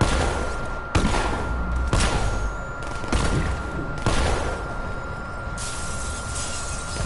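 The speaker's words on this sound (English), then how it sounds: "Why'd they bother shooting me?" Gunfire aimed at Batman in Arkham Knight: loud, sharp shots crack out about once a second over a continuous rumbling background, with no talking.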